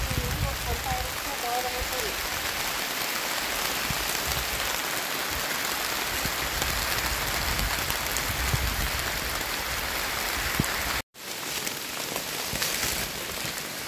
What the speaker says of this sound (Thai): ฝนก็ตกครับ